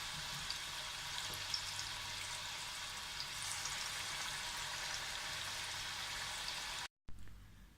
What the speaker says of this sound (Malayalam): ഇനി നമുക്ക് ചിക്കൻ പൊരിച്ചെടുക്കാം.